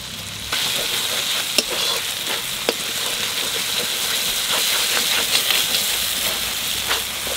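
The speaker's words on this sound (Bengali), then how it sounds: "আদা রসুনটা ভালো করে ভেজে নিলাম" Ginger and garlic frying in hot oil, with a loud, dense sizzle that starts suddenly and holds steady, broken by sharp clicks and scrapes of a spatula, and no talking.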